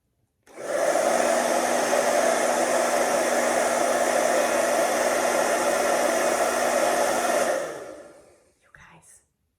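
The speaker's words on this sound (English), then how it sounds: "The tennis ball is too heavy for the hairdryer." A hair dryer blows steadily for several seconds with a loud, even rushing hiss, attempting to lift a tennis ball, then switches off, followed by a brief faint rustle.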